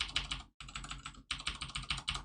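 Keys tapping on a computer keyboard with repeated space bar presses, in two bursts of steady, close clicking separated by a brief pause.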